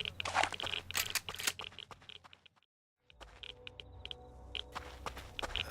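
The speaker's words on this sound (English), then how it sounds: "I hear footsteps" Footsteps in the game Rust, a run of crunchy, gritty steps close by, broken by a short silence, then lighter scattered steps resume.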